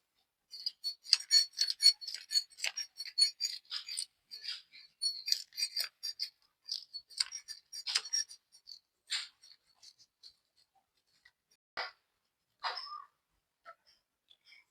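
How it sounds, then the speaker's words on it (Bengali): Hilsa scales being scraped off with a fork, a dense run of short, quick scratchy strokes, close and dry, that thins into sparse single scrapes toward the end, with no voices. "বন্ধুরা আঁশটা ছাড়িয়ে নিলাম একটা কাঁটা চামচ দিয়ে"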